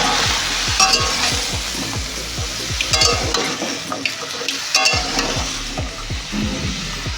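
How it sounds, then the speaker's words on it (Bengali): Bottle gourd frying in a pan while being stirred, with repeated scraping strokes of the spatula over a constant sizzle, close and fairly loud, no voices. "ভালো করে নেড়ে চেড়ে ঢাকনা চাপা দিয়ে দেবো"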